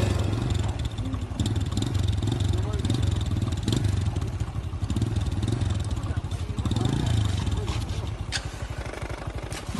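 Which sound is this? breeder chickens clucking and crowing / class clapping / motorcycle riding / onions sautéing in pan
motorcycle riding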